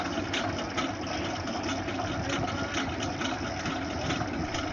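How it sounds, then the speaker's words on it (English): A two-cylinder, water-cooled diesel engine of about 36 to 40 horsepower runs in a 1930s German tractor built around 1934 to 1936. It gives a steady, dense, continuous rumble with no pauses. "It uses a two-cylinder water-cooled diesel engine delivering about 36 to 40 horsepower."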